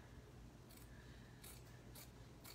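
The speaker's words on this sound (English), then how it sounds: "cut these into smaller sections here." Scissors snip through fabric doll pieces in four short, crisp cuts spaced about half a second apart, close and quiet against a low background hum.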